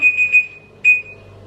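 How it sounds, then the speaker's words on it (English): A kitchen timer goes off to mark the pasta as ready, sounding two bright, steady electronic alarm tones: a longer pulsing burst, a short pause, then a second burst, close and clear over low room hum. "It was my timer telling me that the pasta's ready."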